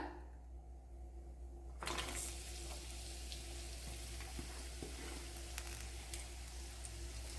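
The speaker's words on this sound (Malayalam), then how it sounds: "അതിലേക്ക് ഒരു വലിയൊരു സവാള കട്ട് ചെയ്തത് ഇട്ട് കൊടുക്കാം" A large chopped onion drops into one tablespoon of hot coconut oil for a Kerala egg curry, setting off a sudden sizzle that settles into a steady, quiet frying hiss.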